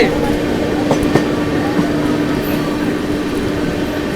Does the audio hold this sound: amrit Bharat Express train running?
yes